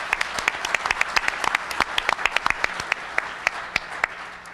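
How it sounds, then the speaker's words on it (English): A room full of people clapping steadily, sharp individual claps standing out over a dense, continuous patter. "How about a round of applause for Jay Bybee and his program committee"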